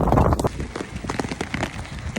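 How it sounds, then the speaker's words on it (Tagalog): Heavy raindrops pelting a surface outdoors in Eastern Saudi Arabia, a dense, close, irregular patter of hard impacts filling the whole stretch. "Grabe guys, ang lalakas ng patak."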